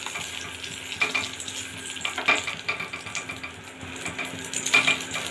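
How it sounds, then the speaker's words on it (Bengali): Stuffed egg omelettes frying in a pan, soft steady sizzle with occasional clinks of a spatula or utensil against the pan, fairly quiet and close, no talking. "এবার এপিট ওপিট লাল লাল করে অমলেটগুলো ভেজে নেবো আমি।"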